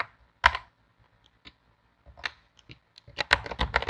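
Swift code typed on a computer keyboard, sparse close clicks at first, then a quicker burst of keystrokes toward the end.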